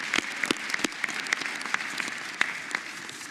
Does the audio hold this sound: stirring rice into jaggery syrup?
no